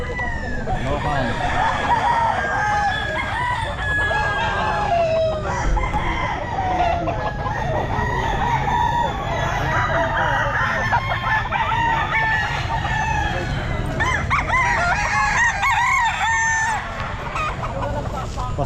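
Roosters crow and chickens cluck at a pet market, a loud, dense chorus of overlapping calls with repeated crows over a busy background where people talk.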